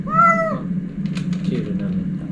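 A former stray house cat gives one clear, close meow at the start, followed by quieter shuffling sounds.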